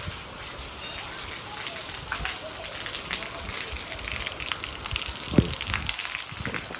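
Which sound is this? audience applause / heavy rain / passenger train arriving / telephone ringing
heavy rain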